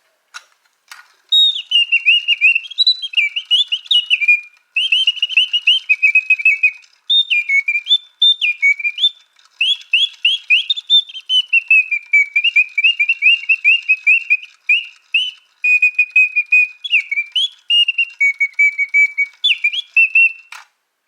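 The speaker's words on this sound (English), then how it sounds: "they had this little music box. And when I got it, it had a little yellow bird, and it did what you're about to see" A mechanical singing bird in an antique music box trills and whistles in bright, warbling phrases, loud and close, repeating for about twenty seconds with short pauses between bursts.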